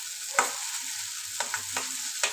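Cashew and mustard spice paste for prawn malai curry fries gently in a kadai, a soft steady sizzle broken by several scraping stirs of a spatula against the pan, with no voices.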